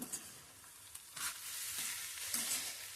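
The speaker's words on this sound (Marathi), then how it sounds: "आता आपण ना ढवळून घेऊया." Jackfruit vegetable with coriander sizzles gently in a pan as it is stirred, soft frying crackle running steadily with a few scraping strokes of the spoon, close and fairly quiet.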